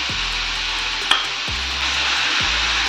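Chicken pieces coated in spices fry in a pan while being stirred, a continuous close sizzle with soft scraping strokes and one sharp knock partway through.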